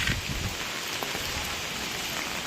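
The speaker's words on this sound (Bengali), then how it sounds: "তো ভাই দেখো, পুরো বৃষ্টি হচ্ছে" Heavy rain from Cyclone Remal falls continuously, a loud, even roar of drops drumming on surfaces close by.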